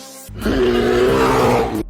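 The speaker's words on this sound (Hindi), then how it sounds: "भूरा भालू गुस्से में दहाड़ता है।" A brown bear roars angrily in one long, loud, sustained growling call lasting well over a second, close and alone after a brief quiet start.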